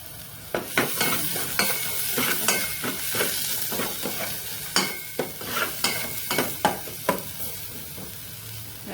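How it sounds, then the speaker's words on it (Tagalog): Garlic and onion sautéing in a pan, a continuous sizzle broken by repeated sharp scraping stirs and utensil knocks, close and fairly loud, no speech. "nagigisa lang ako ng bawang. At lalagay ko na tong yan, sibuyas."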